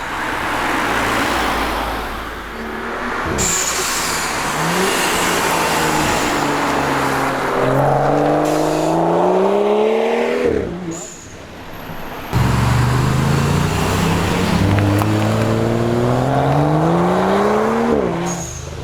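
A BMW M135i xDrive six-cylinder car accelerating hard past at speed, loud engine rising through repeated gear changes with sharp shifts, the roar swelling and climbing in pitch as it approaches and passes.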